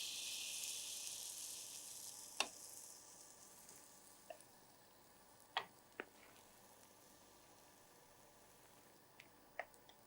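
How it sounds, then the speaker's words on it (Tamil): Chocolate pancake batter sizzles softly in a hot pan, a steady faint frying hiss broken by a few small ticks and pops. "இப்போ இதில் வந்து நம்ம இந்த மாவை ஊற்றலாம்"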